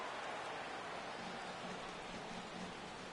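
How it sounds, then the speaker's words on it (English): Heavy rain pours down during a baseball game in MLB The Show 17, a continuous broadband wash of noise held at a low, steady level with no voices over it. "the rain is coming down hard here"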